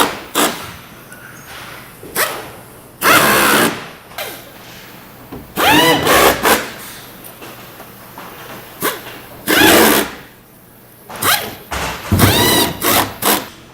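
Power drill driving screws into the plastic legs of a static fleet unit during assembly, several short bursts of whirring separated by pauses, close and fairly loud with no talking.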